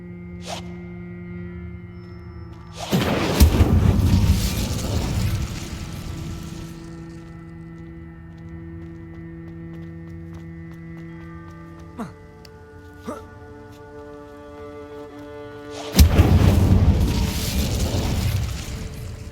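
Incendio fire spells blast in Hogwarts Legacy: two loud, roaring bursts several seconds apart over sustained tonal game music, with scattered soft clicks in between.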